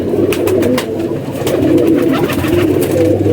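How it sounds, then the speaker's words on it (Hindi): Kasuri pigeons coo in low, throaty murmurs close by, overlapping in a steady rumbling chorus with light rustling. "ये भी कसूरी कबूतर है दोस्तों।"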